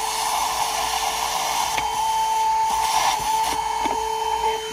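A THISWORX portable handheld car vacuum cleaner with a crevice tool runs with a steady high-pitched whine inside a car, its tone shifting slightly as it works around the parking brake, with faint scraping bumps.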